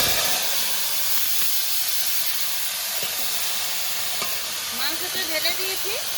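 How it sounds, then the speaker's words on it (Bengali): Marinated meat hits a hot wok over whole spices, bay leaves and dried chillies, giving a steady loud hiss and sizzle throughout, with faint stirring scrapes near the end. "এবার মাখানো মাংসটা কড়াইতে ঢেলে দেবো।"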